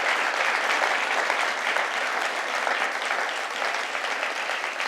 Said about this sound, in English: So again, just a big round of applause to our panelists.